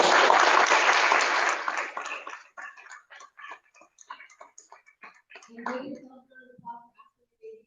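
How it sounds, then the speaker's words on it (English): A burst of clapping and cheering from a crowd at a community association meeting fades after about two seconds, leaving scattered individual claps and a few voices murmuring. "Let's all give them a round of applause."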